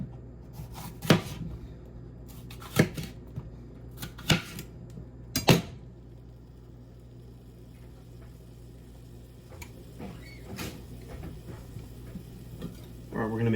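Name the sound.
knife slicing an onion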